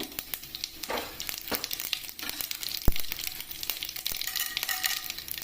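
Mustard seeds and cumin sizzle and crackle in hot oil, a steady frying hiss with scattered pops and one sharp crack midway, close and moderately loud.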